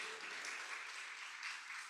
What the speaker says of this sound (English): let's all give the Councilwoman a huge round of